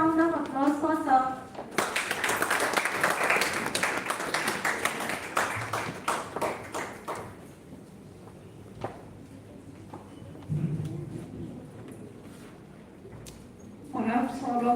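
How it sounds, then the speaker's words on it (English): A dense burst of audience clapping fills a hall at a national-level oratory contest, rising right after a speaking voice and fading within several seconds, with talk resuming afterward. "Great round of applause for Sir."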